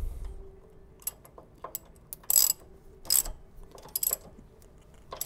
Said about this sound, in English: I'm going to go ahead and grab my 17 and tighten this